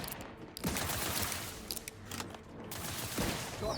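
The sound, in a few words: gunfire from video game The Outer Worlds 2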